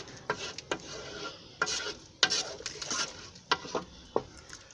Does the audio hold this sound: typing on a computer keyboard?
no